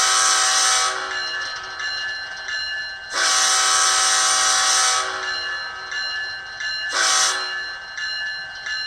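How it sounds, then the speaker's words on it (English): A ScaleTrains ES44AC model locomotive's sound decoder blows its multi-chime horn in three loud blasts, a long one, a second long one, then a short one, separated by a quieter idling engine hum. "Here's function 2, the horn."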